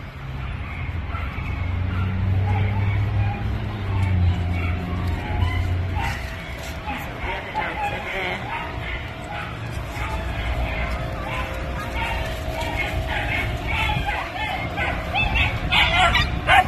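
A dog yipping and whimpering excitedly near a friend, with soft whines and occasional short barks, heard close under people talking.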